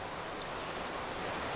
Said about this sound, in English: It's way bigger and the wind is crazy out of control.